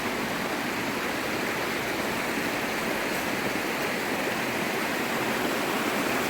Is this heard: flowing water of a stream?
yes